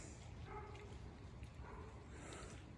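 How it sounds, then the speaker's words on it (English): A dog barks somewhere far off across the way, faint and muffled beneath a steady low background rumble, with a few soft yips spread across the moment. "You hear that dog across the way up there?"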